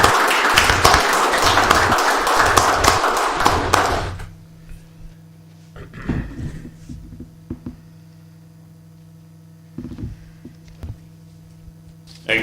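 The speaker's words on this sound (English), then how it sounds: "Big round of applause, please." Council meeting audience breaking into applause, a dense, loud burst of many hands clapping that stops abruptly after about four seconds, leaving a quiet room with low hum, a few scattered noises and faint shuffling.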